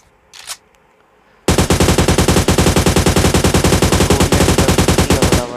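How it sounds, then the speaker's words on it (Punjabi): AUG assault rifle in PUBG Mobile Lite firing a long, sustained automatic burst of rapid, evenly spaced loud shots after a brief faint noise and a moment of quiet. "ਹੁਣ ਔਗ ਚਲਾਉਂਦੇ ਹਾਂ"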